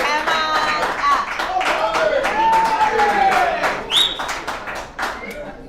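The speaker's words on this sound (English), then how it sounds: "Let's give Rombert a big round of applause." A crowd at an alumni meeting claps for the main speaker being welcomed to the stage, a scattered round of hand claps with voices talking over it throughout.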